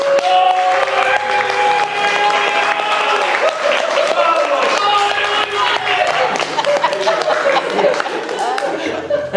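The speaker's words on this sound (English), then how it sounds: "Let's give him a round of applause, please." Applause for the groom at a wedding reception: a full room claps steadily and loudly, with laughter and lively chatter mixed into the clapping throughout.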